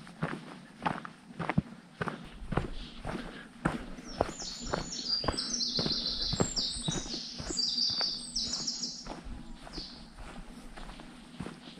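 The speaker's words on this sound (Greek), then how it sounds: "ακούς μόνο τα πουλιά και ένα ελαφρύ θροίσμα του αέρα" Birds chirp and sing softly in a quiet mountain setting on Mount Olympus, with a light rustle of wind, while steady footsteps crunch along close by.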